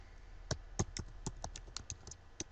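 Keys clatter on a computer keyboard as a recovery command is typed, about a dozen distinct close taps in an uneven rhythm over a quiet background.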